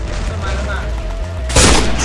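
Shotgun gunfire in the Free Fire battle royale game: a low rumbling thump leads into one sharp, loud blast near the end, with voices talking throughout.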